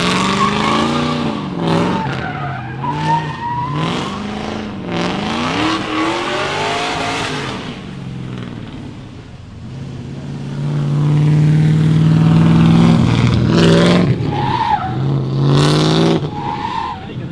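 Drift cars at a Meremere competition heat their tyres, engines revving up and down in rapid bursts while tyres skid and squeal, loud and sustained with rising and falling pitch.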